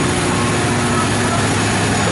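Steam engine driving the paddle wheel of the steamboat Natchez, heard from its engine room on the lower port deck, a loud, steady, dense mechanical roar with a low rhythmic churn throughout.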